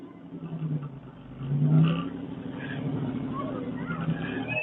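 A car engine idling and revving on a neighbourhood street, with a low steady rumble that swells into a brief rev and then settles, heard under people talking.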